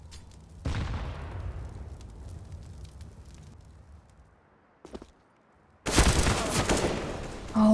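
Rifle fire in Counter-Strike on the Nuke map: a sharp shot rings out and decays, a lone pop follows, then a dense burst of gunfire crackles loudly near the end.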